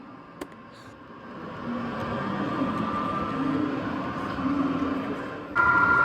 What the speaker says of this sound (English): Leading this vehicle train are two Athearn SDE 70 ACEs that were inspired by the Union Pacific's heritage fleet